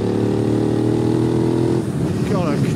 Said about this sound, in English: God, I can never get tired of that engine sound.